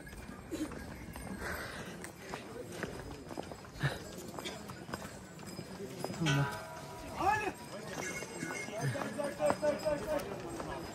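Horse hooves clip-clop on the mountain trail to Kedarnath, irregular and fairly faint under people talking, with scattered footsteps and outdoor bustle around.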